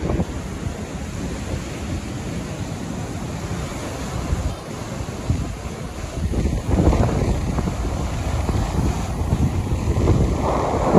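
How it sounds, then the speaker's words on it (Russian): Strong wind roars steadily across the microphone, mixed with the wash of waves on the Zelenogradsk seashore, rising in gusts toward the end; no voices. "Вот такой ветер сегодня."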